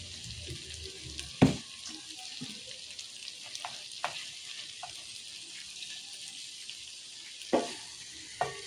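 Goat meat fries in a pan with a steady, even sizzling hiss throughout, broken by a few sharp clatters of a utensil against the pan.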